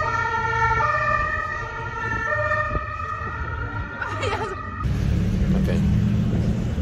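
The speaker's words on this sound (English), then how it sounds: "Oh, siren, what's that?" Emergency vehicle siren wailing at middle distance, its tone sweeping up and down while a car's engine and road noise hum underneath, then the siren cuts off as the car noise swells.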